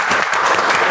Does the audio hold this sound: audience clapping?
yes